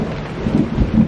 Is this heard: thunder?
yes